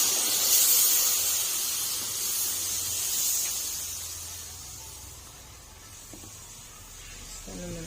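Hot ghee sizzling in a pot while making kahk cookies, a steady faint hiss that swells and fades gently, with a little low background noise.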